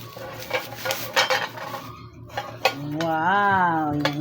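A new non-stick frying pan with a decorative design clatters and clinks as it is handled and fitted together, with short metallic knocks before a voice rises near the end.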